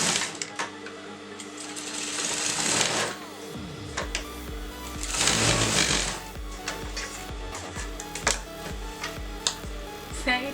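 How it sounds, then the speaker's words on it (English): A sewing machine stitching a designer blouse, its needle whirring in steady mechanical runs that surge louder in two long bursts, then settle into a quieter, intermittent clatter, close up with no voices. "you're going to sew the down part"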